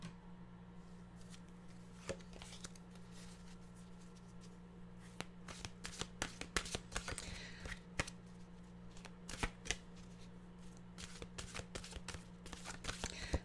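A deck of mantra cards shuffled and handled close by, giving a long run of soft, rapid riffling and flicking clicks that grow busier toward the end over a low steady hum, with no talking.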